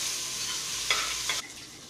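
Onion and green seasoning sizzle steadily in a pan as they cook until tender, with a couple of sharp stirring scrapes before the frying hiss drops off abruptly.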